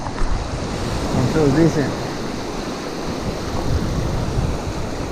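Strong wind buffets across open water on Kentucky Lake, making a steady broadband roar with gusty swells and lapping water beneath it, while a person speaks briefly over the noise.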